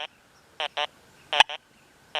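A Gold Field Bird Dog metal detector emits short, buzzy electronic tones in irregular bursts, some doubled, each cutting off sharply over near silence, with a brief click in between.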